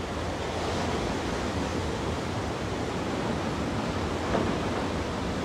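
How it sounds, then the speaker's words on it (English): Ocean surf at La Jolla, California, rolls as a steady, loud broadband wash that never lets up, with one slightly stronger surge near the end and no voices. "I guess that's the waves."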